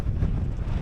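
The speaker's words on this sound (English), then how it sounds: "the direction of the wind is hitting my tent side on." Wind gusting at about 24 mph strikes the side of a Fjallraven tent, making a brief, loud, low buffeting roar against the microphone.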